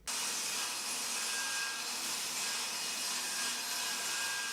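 A saw trims an oak board for a mudroom bench, giving a steady, loud, hissing rasp that runs close and unbroken from start to end.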